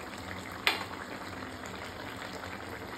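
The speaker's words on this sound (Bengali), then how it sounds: "এবার আমি আর ঢাকা দেব না, এরকম করে জলটাকে পুরো শুকিয়ে নেব।" Sukto vegetables simmer uncovered in a pot as the water boils away, a steady, soft bubbling and light sizzle that runs on without pause, broken once by a single sharp clink near the start.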